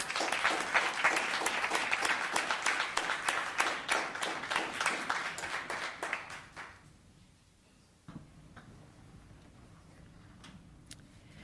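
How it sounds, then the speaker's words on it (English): Audience at a town council meeting claps for about six seconds, a dense burst of clapping that thins and fades out, followed by a quiet room with a few scattered sounds. "Let's give her another round of applause."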